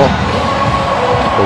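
A dense crowd cheering at a PSL cricket match in Lahore, a loud, steady roar of many voices throughout, with a commentator's voice over it.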